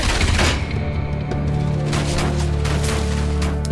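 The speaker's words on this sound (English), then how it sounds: "If there's mechs with gunfire" Mechs fire guns in the action game Enslaved: Odyssey to the West, a loud, dense fusillade of rapid shots and booms running continuously under game music.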